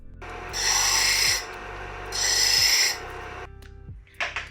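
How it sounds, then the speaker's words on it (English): A deburr tool rasps against freshly cut pie-cut tubing in two long, even scraping strokes, followed by a short metallic clatter at the end. "let's get these all deburred"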